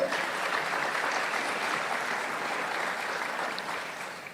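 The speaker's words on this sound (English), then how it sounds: "So let's give a round of applause to them." Steady, dense applause filling a historic room at a school funding town hall, a large audience clapping evenly throughout at moderate loudness.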